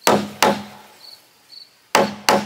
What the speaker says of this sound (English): I can just focus on hammering in the nails